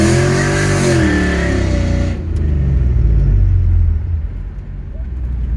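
An LS1 V8 in a 2003 Chevy S10 pickup revs hard and loud up close, a steady roaring drone that drops sharply after about two seconds and settles into a deep, rumbling idle.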